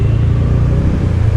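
A car passes on a mountain road near Naran, its engine a steady, loud broadband rumble that stays close for the whole moment, with no voices over it.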